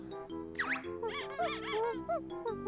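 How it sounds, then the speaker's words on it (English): Rapid cartoonish squeaks chirp from the Banjo-Tooie video game, a quick run of rising and falling squeals over a steady synthesized musical backing, bright and close, with no talking. "It goes squeaky, like Donkey Kong does."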